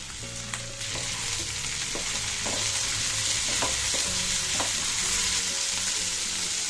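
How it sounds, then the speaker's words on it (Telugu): Cut cluster beans fry in hot oil with onions and turmeric, giving a dense, loud, continuous sizzle broken by the clinks and scrapes of a spoon stirring the pan. "ఈ గోరుచిక్కుల్ని ఆయిల్లో ఒక టూ మినిట్స్ ఫ్రై అవ్వనివ్వాలి"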